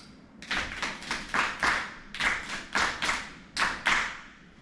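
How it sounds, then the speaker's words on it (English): A small group claps a rhythmic pattern together during a music teacher training session, sharp slapping claps in short grouped bursts with brief pauses, close and fairly crisp. "Let's clap this for them together"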